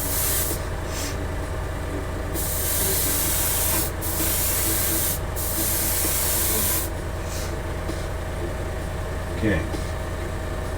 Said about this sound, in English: So this gun, this spray gun is great for